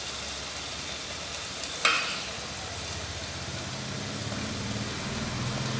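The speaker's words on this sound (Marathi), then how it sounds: "छान कांदा परतला गेला आहे, मटार आणि बटाटे पण छान परतले।" Chopped onion, peas and potatoes sauté in a pan with spices for khichadi, a steady close sizzle and hiss with one sharp clink of a utensil partway through and no talking.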